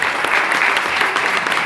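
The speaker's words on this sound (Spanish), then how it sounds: "Oscar, aplauso para Oscar." Audience applause ringing out for a performer named Oscar at a lively show, a dense steady burst of many hands clapping at once, loud and sustained throughout with no voices over it.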